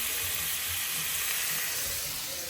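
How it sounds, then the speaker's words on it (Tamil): Cauliflower tossed with chili powder, turmeric and salt sizzles in a hot pan, a steady, close, even frying hiss that carries on without pause. "இது மட்டும் போட்டு நம்ம வந்து இந்த காலிஃப்ளவரை இதில் போட்டு ஒரு பெரட்டிடலாம்."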